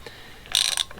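A socket ratchet turns a thread die on an oiled stud, giving one short, quiet metallic clicking burst of ratchet pawl clicks.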